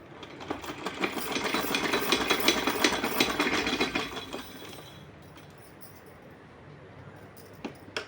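A sewing machine stitches cloth for a small deity dress, giving a rapid mechanical clatter of close, evenly spaced ticks for about four seconds. The clatter then drops to a faint hum, with a lone click near the end.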